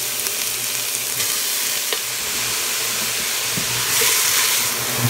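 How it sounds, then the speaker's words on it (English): Onions and peppers sizzle steadily in hot extra virgin olive oil for marinara sauce, a loud continuous frying hiss with a slight swell near the end and no voices. "going to add my onions and pepper"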